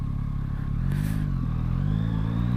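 A 2024 Yamaha MT-09 with its CP3 three-cylinder engine runs with a low, steady rumble throughout, the pitch climbing slightly as it pulls on the road, with wind buffeting in the background.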